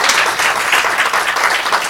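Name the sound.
congregation applauding in church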